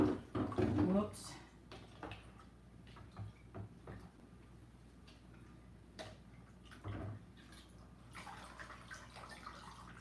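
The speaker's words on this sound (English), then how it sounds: "I'll pour water in here." Water is poured into a potted Phalaenopsis orchid with a short, loud splashing rush at the start, followed by scattered light knocks and drips. A voice talks intermittently in the background.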